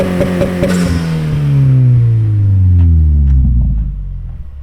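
A 2018 Subaru WRX fitted with a GrimmSpeed turbo inlet and Nameless Performance blow-off valve revs up loud and close with rising harmonics, then the engine note falls away in a long deceleration, followed by a few faint clicks and flutters.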